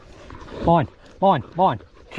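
Dogs at a rabbit-ferreting outing let out three short, whining whimpers in quick succession, close and fairly loud, over faint background noise.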